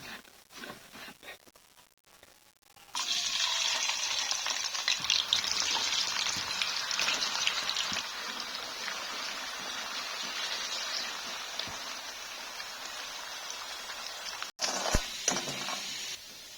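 Potatoes for sambal goreng kentang fry in hot oil, a loud, close, steady sizzle that starts abruptly after a few quiet seconds, with occasional stirring and handling noises and no speech.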